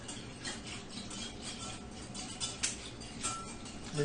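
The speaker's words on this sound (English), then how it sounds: "Then using my whisk, also metal, I kind of mix it up in the" Metal whisk stirring homemade yogurt in a bowl, a steady scraping, pattering rhythm of wires against the bowl, continuous and close with small clicks and knocks.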